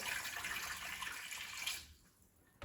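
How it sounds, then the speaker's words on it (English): Water poured into a pot on a stove, a steady close splashing pour that thins out and stops near the end. "So let's go ahead and turn our stove on and pour our water in."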